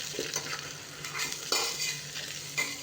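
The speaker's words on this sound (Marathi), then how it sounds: "हे जे बीन्स आहेत ते देखील टाकणार आहे आणि छान परतून घेणार आहे" Green beans and ivy gourd being sautéed in a pan for masale bhaat, with a continuous close sizzle and intermittent scraping stirs of a spoon against the pan, and no one speaking.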